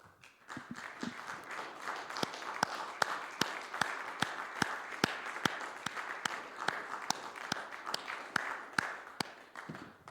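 Congregation at a church service applauding together, steady rhythmic clapping with sharp regular beats over a dense crowd wash, sustained for about ten seconds without talk.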